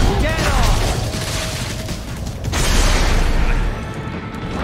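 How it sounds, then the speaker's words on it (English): Rocket launcher blast in the Metal Gear Rising: Revengeance boss fight against Jetstream Sam and Senator Armstrong, a loud broad booming rumble sustained for several seconds with a second surge midway, layered with game effects and music. "Why is he using a fucking rocket launcher here?"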